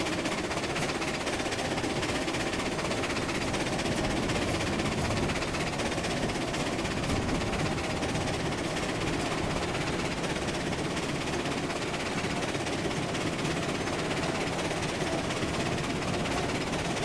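A train rolls steadily on its rails in the railroad simulation game Railroads Online while hauling raw iron to an ironworks, producing a continuous dense rumble and rattle that stays at an even level throughout, with no talking.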